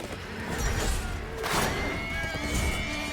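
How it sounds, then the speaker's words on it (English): Loud horse whinny in a war video game set in a winter war, a rising-falling neigh over a busy clatter of battle noise, with a second fainter call near the end. "I was wondering if that was a teammate or enemy horse, because it was very loud."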